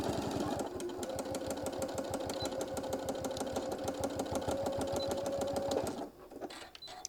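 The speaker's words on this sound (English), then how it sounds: "So I'm going to just sew over probably about an inch of where we started." A sewing machine stitches steadily over fabric, sewing back over about an inch of an earlier seam, its rapid even needle rhythm running close and loud for nearly six seconds before stopping abruptly.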